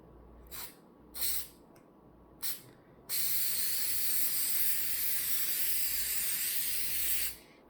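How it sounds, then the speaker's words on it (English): A few short hissing bursts from an aerosol spray can onto a Cricut cutting mat, then one long continuous spray lasting several seconds before stopping. "Let's go ahead and spray this."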